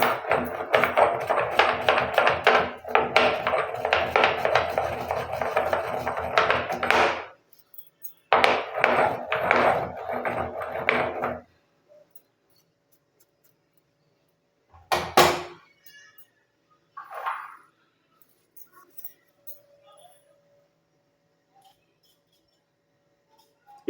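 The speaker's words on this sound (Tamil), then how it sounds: "நான் கொஞ்சமாக இருக்கிறதுனால இந்த மாதிரி இடிக்கல்ல வந்து போட்டேன்." A stone pestle pounds sugar into powder with rapid, dense thuds in two long bursts, then a few isolated knocks separated by near silence.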